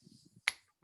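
A single crisp finger snap from the audience at a poetry reading cracks out sharply and close, after a brief low murmur. A faint click follows a moment later.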